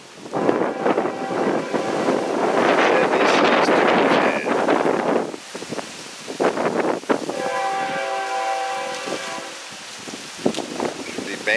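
Strong easterly wind of about 25 at sunrise buffets the microphone in loud, rushing gusts that ease off partway through, leaving quieter stretches with a rumbling train and tonal hum.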